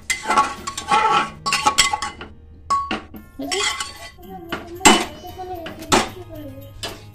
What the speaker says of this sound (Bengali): এবার ভালো করে ঘুরিয়ে নাও